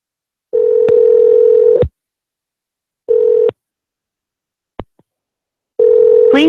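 A telephone line gives off steady ringback tones in bursts, with a dialing-tone pulse between them, as a call rings out toward voicemail. The tones are loud and clear with no talk over them.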